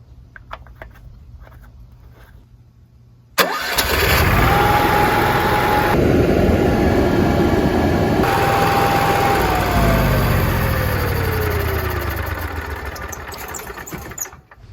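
An Onan generator cranks briefly, then catches and roars into a loud, steady run. A whining tone rises and then slowly drops as the engine settles near the microphone.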